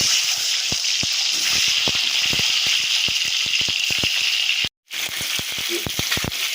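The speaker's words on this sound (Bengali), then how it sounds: "ডিমগুলোকে আমি এবার ভেজে নেব" Boiled duck eggs frying in hot oil in a wok, a steady loud sizzle with scattered pops and spatters, briefly cut off before resuming.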